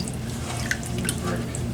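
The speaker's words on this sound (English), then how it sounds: "I'm giving it a second rinse to get that vinegar off" Chicken is rinsed under a running kitchen tap, the water splashing and gushing steadily into the sink at close range with a loud, continuous hiss.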